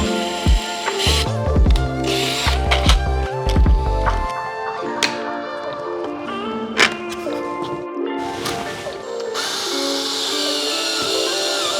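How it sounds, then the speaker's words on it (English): A power drill bores holes in a DIY front splitter panel being fitted to the bumper of a VR6-swapped MR2 Spyder. Loud, close whirring comes in bursts, mixed with clattering and scraping in a workshop. "all I'm gonna do is just drill holes along the front and bolt it to the bumper"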